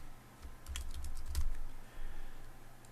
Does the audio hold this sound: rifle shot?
no